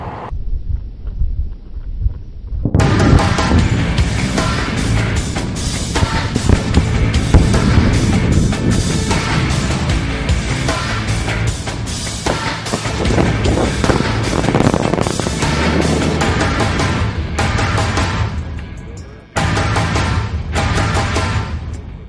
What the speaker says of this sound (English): the chief mining foreman permits blasting